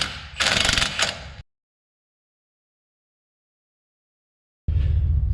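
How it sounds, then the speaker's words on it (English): An impact wrench loosens the strut bolt nuts on a 2008 Mustang GT500 during an upper strut mount replacement. It gives one loud, short mechanical burst of about a second, then silence, then another burst begins. "so we should be able to just hit it with an impact."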